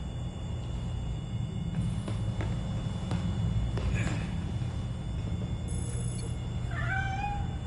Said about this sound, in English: You're telling me a cat managed to break through a world-class security system?